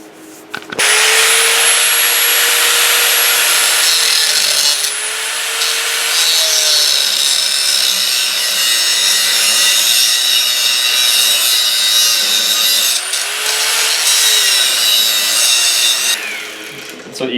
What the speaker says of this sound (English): Got the safety glasses on, time to do some grinding.